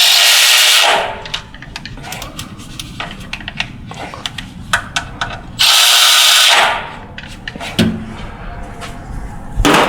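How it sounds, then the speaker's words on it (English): A power tool drives two T40 Torx bolts into a transmission shifter bracket during a 6L80 install, with two loud, sustained bursts separated by ratcheting, clattering handling noises close by. "we are going to install 2 T40 Torx bolts into the shifter bracket"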